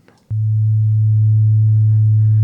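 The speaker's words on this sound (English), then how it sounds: "So let's listen to oscillator 4 on its own." A single steady FM synthesizer oscillator tone from a Eurorack Quad Operator module starts abruptly after a faint rustle and holds at constant pitch, smooth and sustained.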